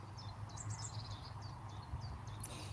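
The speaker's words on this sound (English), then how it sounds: "There's a great tit." A great tit calls outdoors in a faint, repeated series of high chirping notes heard over a steady background of low rumbling noise.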